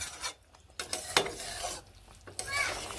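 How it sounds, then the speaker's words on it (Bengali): Ground garam masala stirred into winter vegetables in a pan, producing uneven bursts of scraping and clinking from a utensil against the pan between short quieter gaps, with a faint sizzle underneath. "এবার এই মশলাগুলো দিয়ে ভালোভাবে নেড়ে নিচ্ছি"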